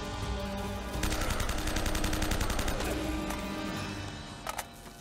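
Gunfire in the video game Uncharted: Drake's Fortune, rapid automatic bursts rattling steadily for a few seconds over game ambience, then a couple of sharper single shots near the end.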